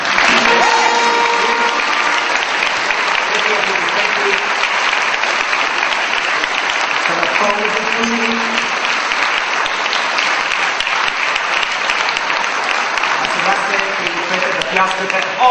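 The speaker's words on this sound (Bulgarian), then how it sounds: "Пляскате още по-силно." An audience at a Man of the Year 2009 awards ceremony breaks into sustained applause, dense and loud throughout, with an announcer's voice briefly audible over the clapping.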